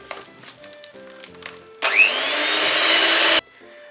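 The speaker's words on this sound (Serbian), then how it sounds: "I sad ćemo sve to zajedno umutiti sa mikserom." An electric hand mixer whisks a chocolate batter of butter, sugar and vanilla, starting abruptly after faint bowl clatter, then whirring loud and steady for about a second and a half before cutting off.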